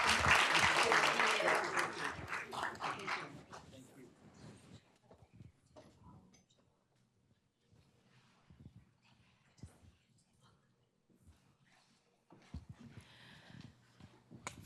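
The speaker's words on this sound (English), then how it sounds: "Can we give them one more round of applause?" Audience applause at a school board business meeting, loud and full at first, then thinning out into scattered claps, shuffling and footsteps, with occasional voices in the room.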